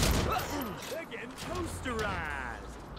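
Gunfire comes from upstairs in the shooter game Haze, with bursts of shots and impacts mixed under close, ongoing talk from players.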